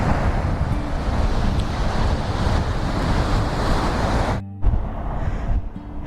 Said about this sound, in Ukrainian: За рахунок вітра, звісно, прохолодно, але хвилі можна побачити, вони дуже великі.